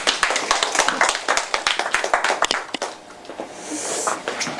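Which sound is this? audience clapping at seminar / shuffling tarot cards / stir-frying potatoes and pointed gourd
audience clapping at seminar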